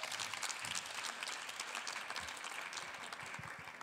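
Audience applause at a stand-up comedy show, a steady, fairly faint patter of many hands clapping at a distance with no voices on top.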